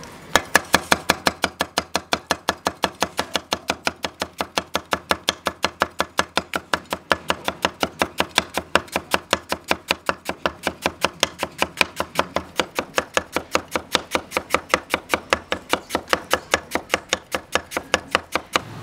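A knife chops rapidly and steadily on a cutting board, shredding peeled potatoes into thin strips for stir-fried potato shreds; dense, even knocks continue close and loud throughout with no talking.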